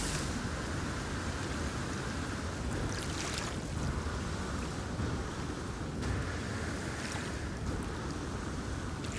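Ocean surf on an alien planet in No Man's Sky, a steady wash of waves and wind noise with a couple of swelling surges, moderately loud and continuous, with no voices.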